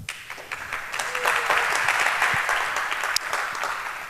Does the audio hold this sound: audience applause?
yes